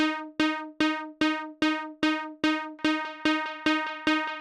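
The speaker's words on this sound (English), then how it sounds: "we've got this wavetable patch. It's just one saw wave, low pass filter with a pluggy envelope" Plucky wavetable synth tone built from a single saw wave through a low-pass filter with a short envelope, spread by ping-pong delay; about a dozen evenly spaced bright plucks repeat alone in a steady rhythm, their echoes layering in later.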